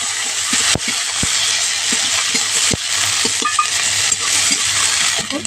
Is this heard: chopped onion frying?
yes